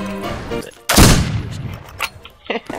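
A shotgun fires once in a western-themed first-person shooter, a loud close boom that decays quickly, with fainter clatter and game sounds before and after.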